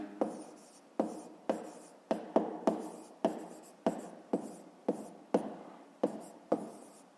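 A pen writes numbers by hand on paper, giving a dozen or so short scratchy strokes, each with a sharp tap of the tip, evenly paced and close.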